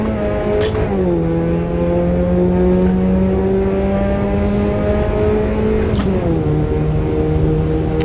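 Puma race car in a racing game on the Nordschleife, engine damaged, revving loud and steady with rising and falling pitch through gear changes, including downshifts near one and six seconds, heard alone.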